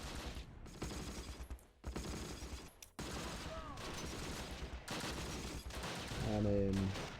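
Infantry gunfire rattles in the wartime battle game Close Combat, with bursts of rifle and machine-gun shots near a building sounding amid battlefield ambience, moderately loud, and a brief tonal game sound near the end.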